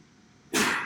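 A single sudden sneeze breaks a quiet room, short and sharp, with faint background hum before it.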